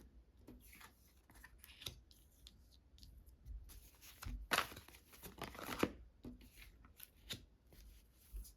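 A deck of tarot cards is shuffled close up, quiet riffling and flicking bursts in uneven rhythm with soft handling rustles between them, no talking.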